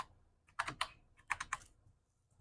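An Aadhaar number being typed on a computer keyboard: two quick clusters of soft, crisp keystrokes, close and quiet, with no voices.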